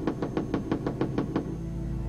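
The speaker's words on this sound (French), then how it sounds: "on frappe à la porte?" Knocking on a door in the Gabriel Knight 2: The Beast Within adventure game: a steady run of about eight firm, evenly spaced knocks, moderately close, then stopping abruptly with only faint background hum left.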